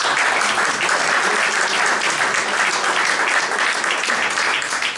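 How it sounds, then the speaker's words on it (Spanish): Sustained applause from a lecture audience thanking the author after a talk on journalism and politics, dense steady clapping filling the room at an even level throughout. "Yo ante todo agradecería el esfuerzo del autor con un nuevo aplauso."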